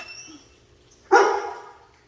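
Jumbo, a household dog, lets out a single sharp bark close by in a quiet kitchen, trailing off over half a second after near silence.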